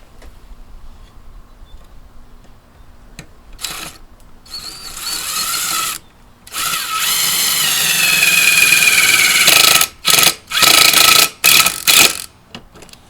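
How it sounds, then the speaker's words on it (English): A power drill whirs in bursts, starting and stopping several times as self-drilling screws bite into a steel plate, loud and close with brief pauses between runs. "I will go with self-drilling screws into this steel plate"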